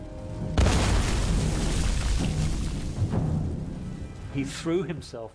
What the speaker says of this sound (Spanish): Robert Kane lanza una granada de mano, pero la lanza hacia arriba, golpea una viga y rebota hacia él.